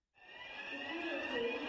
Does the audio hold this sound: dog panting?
no